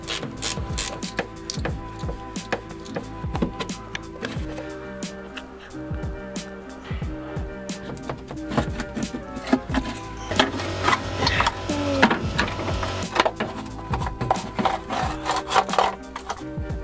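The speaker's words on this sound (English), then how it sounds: "We began dismantling the air filter housing to get at it and remove the cover." Tools work on the air filter housing of a Bedford CF van engine, with steady scraping, rubbing and clattering metallic handling throughout, louder and busier in the second half, close up with no talk.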